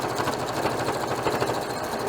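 A sewing machine stitches a small reusable scrubbing pad in a continuous fast mechanical whir, with an even rhythmic chatter of the needle running without pause.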